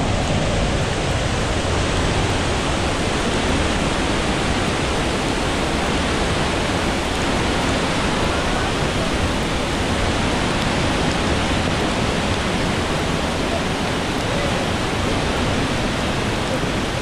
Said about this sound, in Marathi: 1200 फूट उंचीवरून 5 टप्प्यामध्ये खाली कोसळत येणारा एक सुंदर वॉटरफॉल